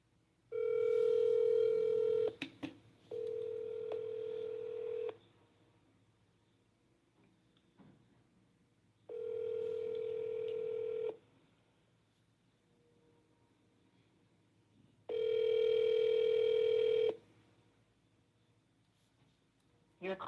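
A telephone ringback tone sounds in four long, evenly spaced bursts of about two seconds each, separated by silence, before the call goes to voicemail.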